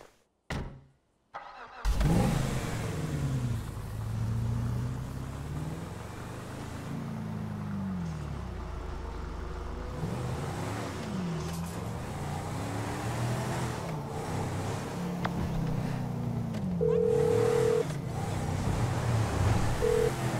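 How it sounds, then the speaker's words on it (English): Car engine starting, then revving and driving in the GTA V video game, with a steady mid-pitched engine drone that rises and falls through gear changes and turns over about twenty seconds, close and continuous, with a few brief beeps near the end. "Hey, Simeon, I got the ride, man. I'm coming back"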